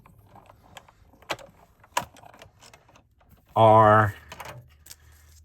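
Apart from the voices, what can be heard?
die cutting machine running a paper card through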